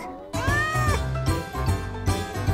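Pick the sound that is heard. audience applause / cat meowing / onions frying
cat meowing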